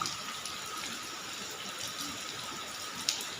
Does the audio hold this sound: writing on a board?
no